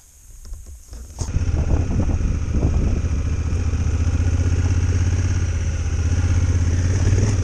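Honda Africa Twin adventure motorcycle pulling away on a trip in Kyrgyzstan, its engine rising from a quiet start into a loud, steady, close drone that holds to the end.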